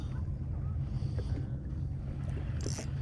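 A steady low motor rumble of a bass fishing boat on Lake St. Clair during a tournament, with wind noise over it, continuous and moderately distant.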